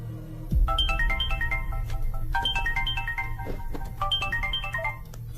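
A telephone ringtone rings in repeated bursts of quick descending electronic beeps, three cycles in a row, over a low steady hum and no talking.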